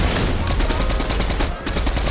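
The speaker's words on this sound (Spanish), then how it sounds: "el disparo de fusil lo puedo parar" Rapid rifle gunfire in a video game rattles out as a dense, loud burst of repeated shots, continuing with a brief dip midway before resuming.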